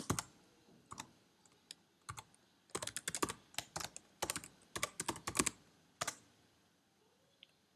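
Typing on a computer keyboard at a Mac terminal, crisp close key clicks arriving in irregular bursts with short pauses, and no voices.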